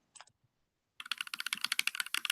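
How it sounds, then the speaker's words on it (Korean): Computer keyboard typing added as a sound effect: a couple of faint taps, a pause, then a fast, steady run of crisp close keystrokes with no talk. "키보드 두드리는 소리를 이렇게 넣어 주었습니다."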